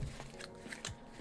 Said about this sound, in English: One more good shuffle in here,